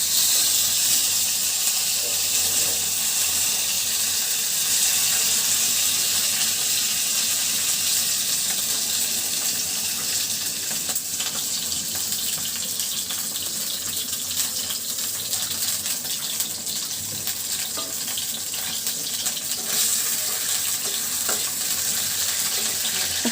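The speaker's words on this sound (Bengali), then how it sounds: "তো কড়াইতে দিয়ে দিচ্ছি মাছ।" Fish frying in hot oil in a wok, a steady dense sizzle and crackle running unbroken throughout, close and loud with no talking.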